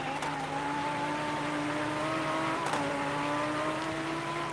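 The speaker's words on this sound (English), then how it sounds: "As we're gonna have a look and enjoy the flyby here by Adam" Porsche Cup race cars in a racing game sweep past with high, droning engine notes that rise and fall in pitch, a constant loud motor whine with a brief whoosh midway.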